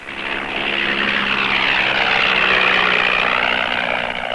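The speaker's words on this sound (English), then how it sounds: "Flying his own aircraft from a bush strip near his camp" A light propeller plane flies near a bush strip close to a camp in elephant country, its engine droning steadily and loudly for the whole stretch with a faint rise and fall in pitch.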